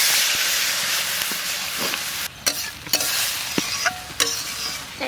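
Water poured into hot oil-rich masala for a village-style black pomfret curry gives a loud close hiss and sizzle that eases off, broken by several sharp clinks of a spoon against the pot.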